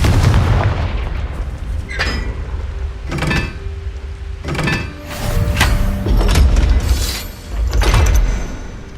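Repeated fire-spell blasts from the Hogwarts Legacy video game, a series of sharp booming bursts roughly every second or two, each trailing off with a crackling rumble, with no talk over them.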